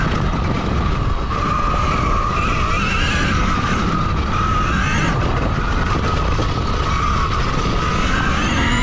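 A 2022 KTM Freeride E-XC electric dirt bike spins its tire hard: a loud, continuous whining screech with gritty scrabbling noise holds steady for about nine seconds at close range, with no talking.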